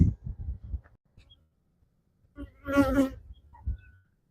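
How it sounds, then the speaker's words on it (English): Honeybees being shaken into a hive after a swarm give a loud, close burst of buzzing that swells for about a second, with short thumps and scraping of the hive before and after. "I'd like to shake in a few more bees."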